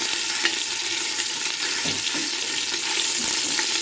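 Marinated beef browns in a pan with a continuous close sizzle and frying crackle, while occasional scrapes and knocks come through as the pieces are stirred and turned over.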